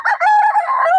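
A rooster at a pet and farm animal market lets out a single loud, close crow lasting about a second, clear and alone.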